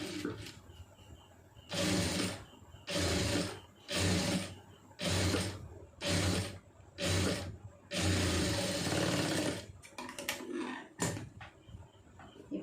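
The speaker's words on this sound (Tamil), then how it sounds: "நம்ம தையலுக்கு எந்த அளவுக்கு மார்க் பண்ணியிருக்கோமோ அதில் அப்படியே தையல் ஓட்டிடுங்க" A sewing machine stitches fabric along a marked line in repeated bursts of whirring, about eight runs of one to two seconds each separated by short pauses, close and fairly loud.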